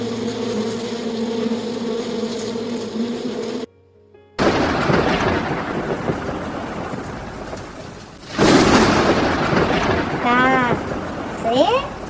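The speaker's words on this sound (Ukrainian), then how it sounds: "гроза." Heavy rain-like roar with low rumbling, broken by a brief silence, then a louder surge of thunderous noise near the end.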